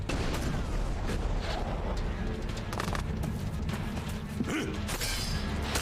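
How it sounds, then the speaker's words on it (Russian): Dense, continuous booming and crackling from an explosion in the RPG ELEX, loud throughout with sharp bursts and a low rumble. "Взрыв."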